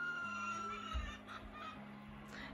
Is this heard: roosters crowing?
yes